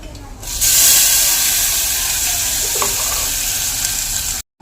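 Tomatoes dropped into a hot tempering of oil and chopped garlic for a gram-leaf vegetable dish, bursting into a loud, steady hiss and sizzle that holds close and strong before cutting off abruptly.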